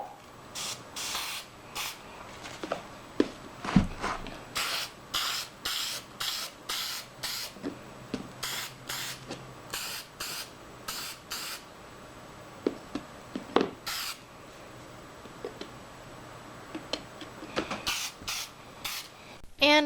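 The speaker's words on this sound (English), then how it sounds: "I like to use a spray sealer." Spray sealer is sprayed onto doll stands in repeated short bursts of aerosol hiss, steady and fairly close, with brief pauses between sprays.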